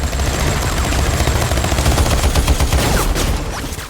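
Rapid bursts of gunfire crackle densely over a low rumble, a chaotic volley of shots lasting a few seconds.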